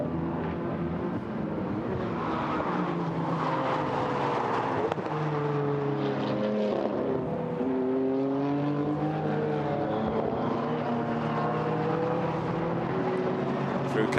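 GT4 race cars at Paul Ricard sweep past in a stream, engines rising and falling in pitch as they pass, with a commentator talking over the steady roar.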